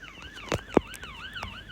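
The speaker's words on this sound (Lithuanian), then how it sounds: "O, greitoji pagalba, stabdom greitoje." Ambulance siren in the Roblox Brookhaven video game, a wailing electronic tone rising and falling repeatedly, fairly close and clear, with a couple of short sharp clicks over it and no talking.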